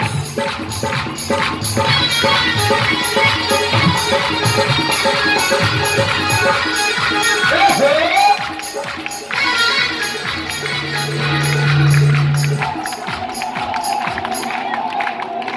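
Devotees at Khatu clap together in a devotional clapping service, a loud crowd of rhythmic applause and cheering mixed with voices and music, with a brief sustained tone near the end.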